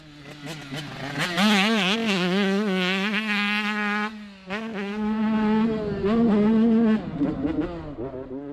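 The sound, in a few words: 85cc two-stroke motocross bike riding the track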